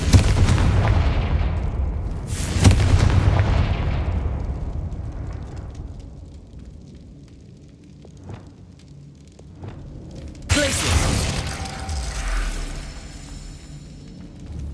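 A Confringo blasting-spell explosion in the Hogwarts Legacy video game, with a loud booming blast that decays into rumble and a second burst later among quieter game sounds.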